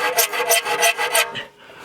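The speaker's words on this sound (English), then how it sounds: "taking your time and filing each one of those teeth" A file on a multi-tool sharpens saw teeth in about six quick, even rasping strokes, close and loud, then stops.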